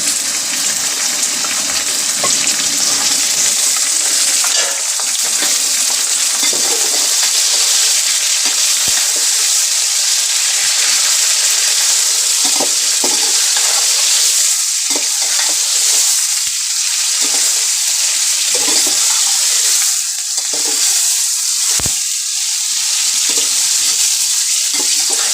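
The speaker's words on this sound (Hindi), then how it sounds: "चिकन डाल देंगे इसको भून के।" Chicken pieces frying in a pan with lightly fried onion for biryani, giving a loud, continuous close-up sizzle with occasional stirring scrapes and no speech.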